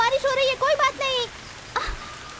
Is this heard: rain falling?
yes